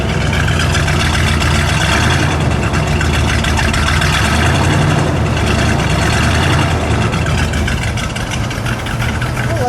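The V8 engine of a 1973 Buick Gran Sport Stage 1 idles loudly and steadily, its deep rumble close and continuous throughout with no talking.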